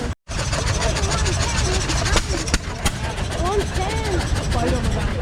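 Vintage John Deere stationary engines of 1.5, 3 and 6 horsepower running at an outdoor show: a steady, loud mechanical chugging drone with a few sharp knocks, and people talking over it.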